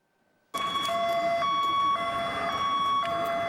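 Emergency vehicle sirens start abruptly and blare loudly and continuously during a training call-out involving police and medics, their tones alternating in a steady cycle, with no voices over them.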